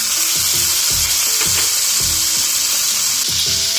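Tomatoes cook for spicy Puneri misal in a hot pan, giving a loud, dense, continuous sizzle and fry hiss with soft scraping stirs and knocks throughout, and no voices.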